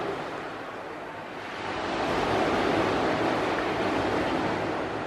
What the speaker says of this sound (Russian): Ну вот оно, наше Черное море.